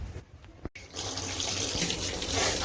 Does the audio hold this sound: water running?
yes